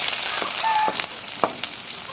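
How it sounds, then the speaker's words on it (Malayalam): Mustard seeds splutter in hot ghee while making rava upma, a steady sizzling hiss broken by a few sharp pops close up, with no voices. "കടുക് ഇതാ നന്നായിട്ട് പൊട്ടി വരുന്നുണ്ട് കേട്ടോ"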